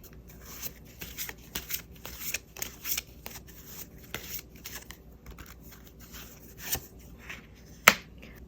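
Tarot cards being shuffled and drawn up close, a quiet run of crisp snaps, flicks and soft rubbing with one sharp louder slap near the end, no talking.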